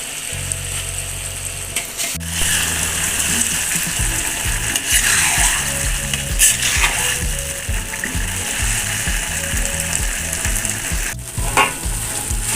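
Sardines going into a pan of cooked chili sauce for Padang-style balado, setting off a loud, steady sizzle with rattling stirring scrapes and clinks throughout, no voices.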